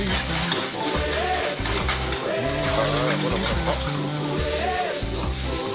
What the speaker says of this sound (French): Ensuite on va déglacer.